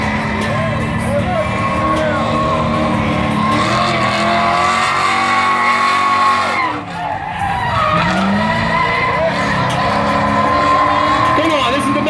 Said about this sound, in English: some drifting right there.